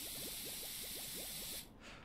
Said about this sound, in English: I love the spray of this one, though, and the bubble sound